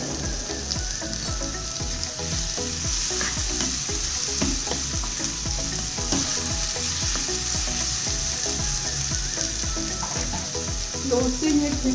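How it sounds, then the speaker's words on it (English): Chopped tomatoes for pav bhaji sauté in a pan with a steady moderate sizzle and repeated stirring scrapes and taps, heard alone without talk. "We have to saute these tomatoes until they become very mushy."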